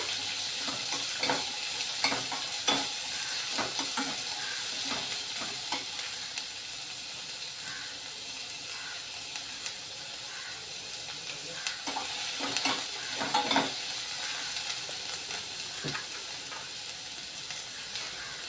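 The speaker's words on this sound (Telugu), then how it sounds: "ఉల్లిపాయలు ఎర్రగా వేగాలి" Onions and green chillies fry in a pan with a constant hissing sizzle, punctuated by soft scrapes and taps of stirring, with no voices.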